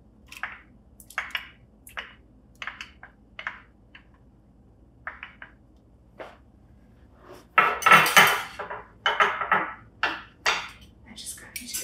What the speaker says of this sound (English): I'm just going to whisk lightly.